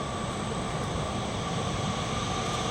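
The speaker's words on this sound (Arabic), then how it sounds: "القطار سحب علي" Inside a station of the Istanbul metro, a train hums and rumbles steadily for a few seconds, a continuous mechanical drone with faint whining tones and no speech.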